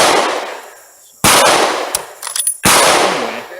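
A Springfield Model 1903 bolt-action rifle fired at an outdoor range: three sharp, loud reports, each followed by a decaying echo, with about a second and a half between shots and a faint clatter in between.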